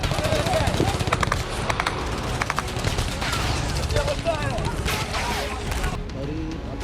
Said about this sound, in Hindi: लोगों पर इजरायली सेना ने फायरिंग शुरू कर दी